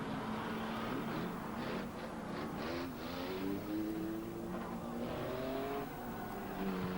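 Banger race cars at a 1994 Warneton Ruisbroek banger world cup event rev and accelerate away at a race start, overlapping engine whines rising in pitch over a noisy crowd-and-track roar, heard from a distance.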